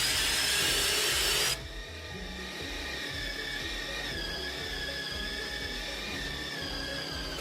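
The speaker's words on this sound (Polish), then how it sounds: "Test czwarty. Wiercenie otworu 8 mm." A Ryobi R18PDBL cordless drill bores an 8 mm hole, its motor whining steadily and close, loudest at the start before settling into an even grinding drone with rhythmic low chatter.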